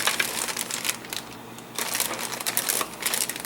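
Crinkly rustling of a plastic bag as gold metallic plastic model kit parts for a King Ghidorah kit are pulled out, close and fairly quiet, in uneven bursts with a brief lull midway.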